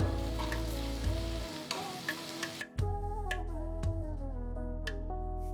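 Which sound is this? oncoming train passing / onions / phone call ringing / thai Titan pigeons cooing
onions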